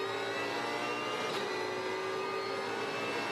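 A V8 Supercar races onto the front straight at Albert Park during a 2014 race, its engine a loud, steady high-pitched howl with a brief surge midway and no talk over it.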